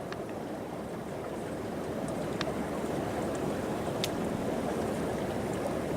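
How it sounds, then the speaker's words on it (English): A river rushes beneath a hiking trail near Marion Lake, a steady broadband wash of flowing water heard up close and continuous, with a few faint high clicks on top. "we're standing on top of a river"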